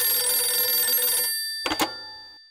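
A telephone rings loudly and alone in a steady burst that cuts off, followed by two brief clicks like a receiver being lifted.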